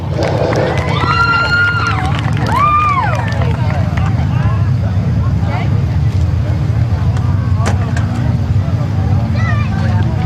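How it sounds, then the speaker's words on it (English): A large outdoor crowd at a speedway race roars and cheers steadily, with a loud announcer's voice speaking over the noise. "Let's have a nice round of applause for Scott Otto."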